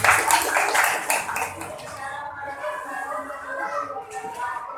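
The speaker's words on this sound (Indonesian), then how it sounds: "Beri tepuk tangan untuk ini." Schoolchildren in an Indonesian classroom clap together in a short, lively burst that fades quickly, followed by murmuring voices and a teacher speaking.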